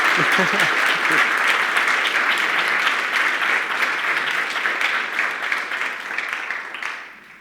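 Audience applause after a talk on gamification, broad sustained clapping from a large crowd, strong at first and gradually thinning and fading out near the end.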